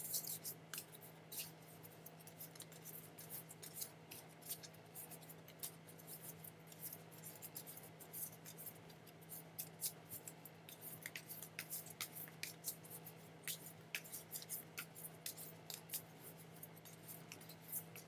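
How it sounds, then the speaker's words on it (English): Tarot cards shuffled quietly by hand, a stream of soft crisp flicks and riffles in irregular bursts over a low steady background hum, with no talking. "Okay, universe, I'm gonna focus on shuffling without talking."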